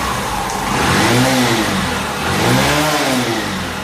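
A Hero Passion Pro motorcycle, a B6 model fitted with a Unicorn CDI on its stock wiring, is revved twice up close, its loud engine note swelling and falling in two smooth rises.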